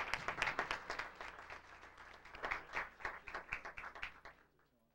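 Polite audience applause for parents at a State Board of Education meeting, a modest round of fairly quiet clapping with clustered claps that fades out after about four seconds.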